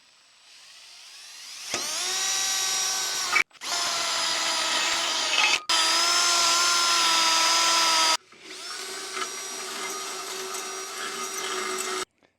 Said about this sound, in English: I'm going to drill down into the top cross members here and mount this